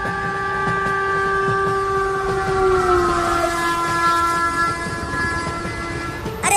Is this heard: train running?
yes